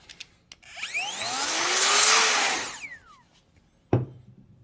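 Compressed air hisses onto the mechanism of a Hammond Multiplex typewriter freshly dabbed with Liquid Wrench penetrating oil, swelling into one long steady blast of about two seconds, then tapering off before a short sharp knock.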